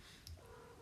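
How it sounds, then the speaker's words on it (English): A mother cat calls to her kittens indoors with one brief, soft, faint chirping call. "I've got a cat and she's got kittens and she's communicating with them."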